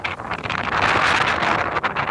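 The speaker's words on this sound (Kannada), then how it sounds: "ಗಾಳಿ ಸೌಂಡ್ ಕೇಳಿಸ್ತೀವಿ," Wind gusting outdoors buffets the microphone with a continuous rumbling, hissing roar that swells and dips irregularly. It is loud and close, with no voices over it.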